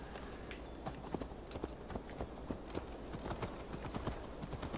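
Horse hooves clip-clop steadily in Assassin's Creed Valhalla as a mount sets off, a rhythmic series of close, moderately loud hoofbeats over a low ambient bed.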